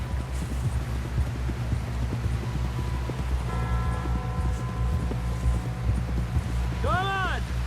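Horse hooves clip-clop steadily through a Wild West video game scene, a rhythmic trot beneath continuous background music with a brief tonal chime near the end.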